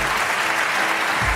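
Studio audience applause on a Turkish singing talent show, a dense steady wash of clapping that fills the whole short stretch without a break.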